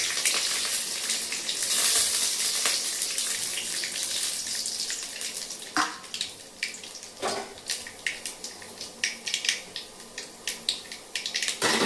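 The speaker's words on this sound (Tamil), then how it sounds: "கடுகு போட்டு பொரிஞ்ச உடனே பச்சை கடலைப்பருப்பு ஆட் பண்ணிக்கிறோம்." Mustard seeds and chana dal frying in hot oil in a pan, a bright hissing sizzle that thins out into scattered popping crackles and bursts toward the end, close and loud with no voices.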